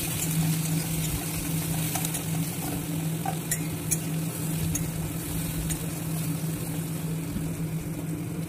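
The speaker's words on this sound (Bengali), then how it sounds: "একটু লাল লাল করে ভেজে নেবো" Onions frying in a pan for a home-cooked dish give a steady, low sizzling hiss that runs continuously, with faint scraping stirs and a constant background hum.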